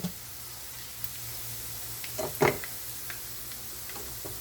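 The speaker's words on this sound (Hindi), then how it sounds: "अब इसमें मैं थोड़े से काली मिर्च, लौंग और एक दालचीनी का टुकड़ा मैं ऐड कर रही हूँ। इसको फ्राई कर लेंगे साथ।" Black pepper, cloves and a piece of cinnamon frying in hot oil in a pot for potato pulao: a faint, low sizzle broken by occasional small ticks and crackles, close but quiet, with no speech.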